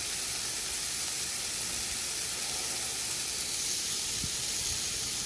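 Frozen shredded steak slices cook in a hot pan with a constant broadband sizzle and hiss, steady and close throughout, with no voices.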